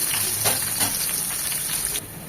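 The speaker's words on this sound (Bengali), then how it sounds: "ঠিক একইভাবে সবজিগুলো ভেজে নেব আমি একটা আলু নিয়েছি প্রথম আলুটাও দিচ্ছি" A piece of potato drops into hot oil in a pan and fries. The sizzle is loud and close, with bursts of crackle early on, then it settles into a steady hiss and drops in level near the end. No one speaks.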